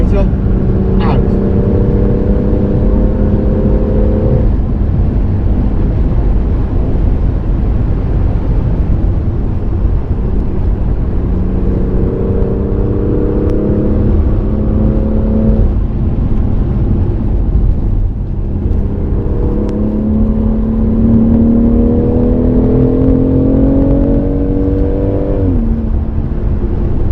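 A car lapping the Goodwood track, its engine rising steadily in repeated acceleration pulls as it builds speed out of corners, loud and close from inside the cabin, with a coach's voice talking over it throughout.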